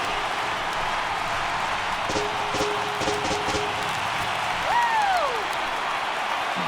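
A baseball crowd in MLB The Show 18 gives a steady, broad roar with applause through a Baltimore at Miami afternoon game, and a couple of short whistles rise above the din.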